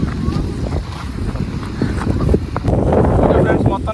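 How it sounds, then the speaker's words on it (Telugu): Strong wind gusts buffet the microphone beside a large reservoir, a loud continuous roar that swells toward the end, with someone talking over it. "గాలి చూడు ఎంత బలంగా వేస్తుందో"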